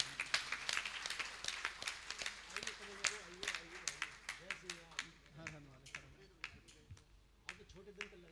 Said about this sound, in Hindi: आप लोग ताली बजा दें